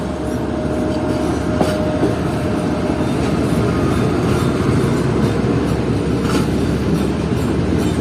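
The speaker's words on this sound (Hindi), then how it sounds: "ये है पेशावर, ये रहमान बाबा एक्सप्रेस का बकाया रेक है" A short rake of the Rahman Baba Express, the remainder of a derailed train, rolls past the main level crossing near Bhulari station with a loud, steady, close rumble and wheel clatter that never lets up.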